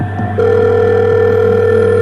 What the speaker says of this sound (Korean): 몇 번의 벨이 울리고 나서야 누군가가 전화를 받았다